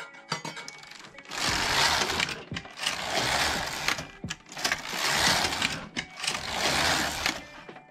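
A Passap E6000 knitting machine carriage is pushed across the needle bed four times in a row, each pass a loud rasping, clattering sweep of a second or so, with short pauses between, up close.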